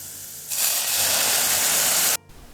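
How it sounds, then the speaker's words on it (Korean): Chili peppers hit a hot pan for an eggplant stir-fry, giving a loud, steady hiss that starts abruptly, holds for under two seconds, then cuts off. "고추를 먼저 볶아주면서"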